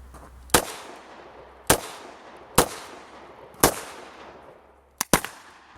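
Ruger LCR 9mm revolver firing five sharp shots outdoors, spaced about a second apart, with the last two closer together and each followed by a brief fading echo.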